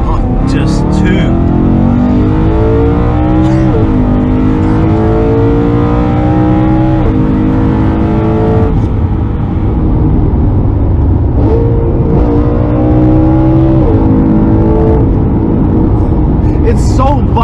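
A BMW M3 engine revs up through the gears in loud, rising sweeps, with each upshift dropping the pitch before it climbs again. Heard from inside the car, the engine drone runs continuously, and voices talk over it.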